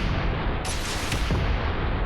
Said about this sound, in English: And then 9 should be a volley from these 2 missile launchers.